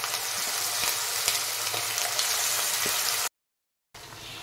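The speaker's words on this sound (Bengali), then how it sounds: "এবার আমি চিকেনগুলো গোল্ডেন ব্রাউন করে ভেজে নেব।" Chicken pakora deep-fries in hot oil over a flame being turned from high down to medium, giving a continuous close sizzle and bubbling that cuts out abruptly to silence before resuming briefly.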